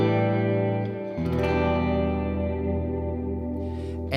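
Fender Jaguar electric guitar at its normal tone, a sustained strummed chord ringing out with full low end, a second strum midway, heard alone.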